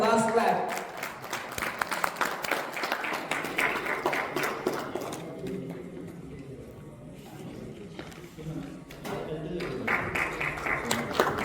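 Applause from an education awards audience in Dubai fills the opening seconds, dense and close, then thins out as a voice starts talking, with clapping surging again near the end.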